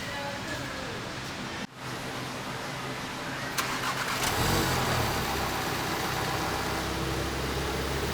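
A 2018 Volkswagen GTI engine cranks briefly after a thermostat housing install, then catches and settles into a steady running rumble, close and continuous until the end.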